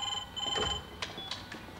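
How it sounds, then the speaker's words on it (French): A telephone rings in a 1999 French television film set in Berlin, a faint electronic ringing tone with short repeating chirps over a quiet room background. "téléphone!"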